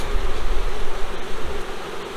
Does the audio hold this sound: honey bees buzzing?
yes